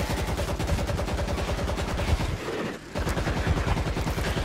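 Rapid automatic gunfire rattles in the zombie shooter World War Z, dense repeated shots in continuous bursts with a brief pause near the middle before firing resumes, loud and close.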